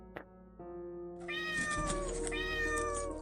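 A cat named Meichu lets out one drawn-out meow, close and fairly clear, after a couple of faint soft clicks in a quiet room.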